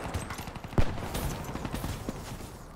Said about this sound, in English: I thought someone was shooting behind me there.